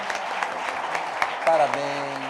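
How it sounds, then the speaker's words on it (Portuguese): Church congregation applauding during a celebration service, a dense crowd clap under sung or spoken voices that rise near the end, steady and fairly loud for a couple of seconds. "vamos aplaudir Cristo"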